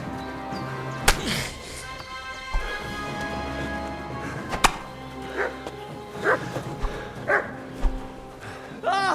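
A dog barks repeatedly in the medieval video game Kingdom Come Deliverance II, its short bursts spaced through the scene among thuds and background ambience, with a faint voice now and then.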